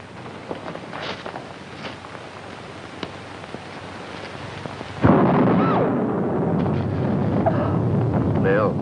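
A thunderclap from a thunderstorm crashes in loudly after a stretch of quieter background noise, then rolls on as a sustained rumble to the end.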